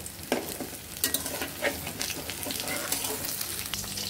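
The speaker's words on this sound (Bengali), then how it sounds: "এখন আমরা বড়াটি উল্টিয়ে নিব।" Taro fritters (kochu bora) sizzle in hot oil as they are flipped, a steady crackling fry broken by a few sharp clinks and scrapes from the utensil.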